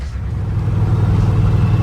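A 1971 Ford F250 truck engine runs rough with a steady low rumble, heard close and loud while cruising, with no voices.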